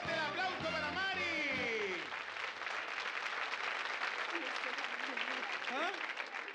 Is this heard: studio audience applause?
yes